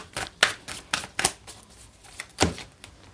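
Tarot cards drawn from a deck, a series of crisp slapping and flicking card sounds in irregular bursts, close and fairly loud against a quiet room.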